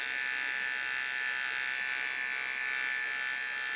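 A Xiaomi electric hair trimmer buzzes steadily and close up, a constant high-pitched motor drone with no pauses and no voices.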